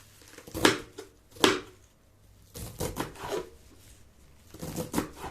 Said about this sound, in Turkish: İncecik kıyacağım.